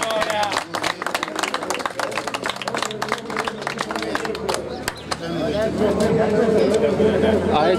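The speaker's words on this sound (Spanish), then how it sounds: "un fuerte el aplauso" Applause from a crowd at a horse racing prize ceremony at the Hipódromo Córdoba racecourse, dense and steady clapping with a loud public-address voice talking over it throughout.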